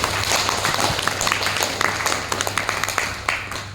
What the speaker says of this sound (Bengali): তাই আরেকবার নিজেদের জন্য একবার বড় হাততালি দেব।